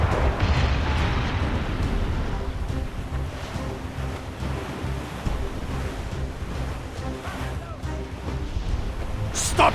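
Naval battle in a pirate-era sailing video game, with cannon fire and explosions rumbling through a dense, loud roar of sea and wind, steady throughout with shouted crew voices mixed in.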